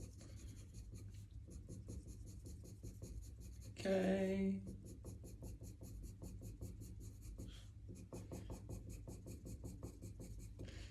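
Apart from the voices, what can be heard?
coloured pencil shading on paper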